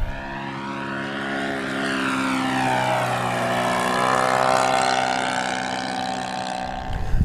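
An AeroWorks 30cc LC-126 radio-controlled airplane flies past at about quarter throttle, its gas engine and propeller making a loud buzzing drone that shifts in pitch as it approaches and passes, with no talking.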